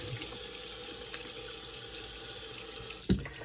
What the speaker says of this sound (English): we'll rinse that off